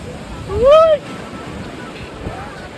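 Surf on Marina Beach in Chennai makes a steady, broad wash. A short tonal whistle cuts in near the start.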